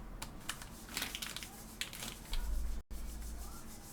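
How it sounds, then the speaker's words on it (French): Sanding on a balcony: a steady scraping rasp with irregular, gritty strokes, heard at a moderate distance under faint nearby clicks and bumps, with no voice. "si vous entendez poncer, c'est mon chéri qui ponce sur le balcon"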